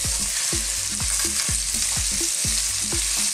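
Onions and bacon fry in olive oil over high heat, a loud steady sizzle with repeated clatters and scrapes of stirring throughout, and no voices.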